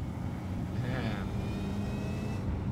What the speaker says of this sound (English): Listen to the supercharger, by the way.